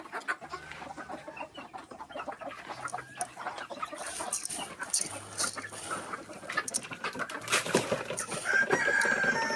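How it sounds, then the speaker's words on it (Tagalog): Chickens cluck and a rooster crows on a farm as they are fed, a busy mix of close clucks and scattered calls that grows livelier and louder toward the end. "Papakain tayo ng manok."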